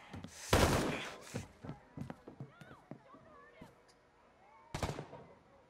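Gunfire in the video game Ghost Recon Breakpoint: a few sharp shots, one loud and close near the start and another later, amid in-game voices and footsteps-like clatter.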